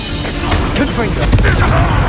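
A Confringo fire spell bursting in Hogwarts Legacy, a short muffled boom inside dense combat clatter, with voices underneath.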